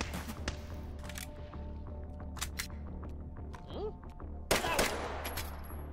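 Gunfire from a hard-to-aim gun in the VR shooter game H3VR: several sharp shots at irregular intervals, with a louder burst near the end, over a steady low hum and a voice talking.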